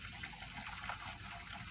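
A kitchen tap runs steadily into a sink to make soapy water for washing glassware, giving a constant close rushing splash with no talk.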